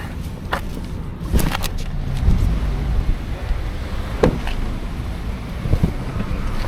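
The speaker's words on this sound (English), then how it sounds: "Yeah, the rental car." A rental car drives along a road in Costa Rica, with steady engine and tyre rumble under strong buffeting wind noise and a few sharp knocks and clicks.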